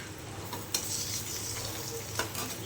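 An egg fries on a slow flame after being flipped, giving a steady close sizzle with a couple of brief utensil taps and no voices.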